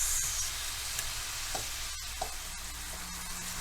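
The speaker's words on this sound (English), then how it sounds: "Let them kind of sizzle in that for a few minutes." Steady crackling sizzle of food frying in a pan, close up, with a few light clicks and scrapes over the continuous hiss.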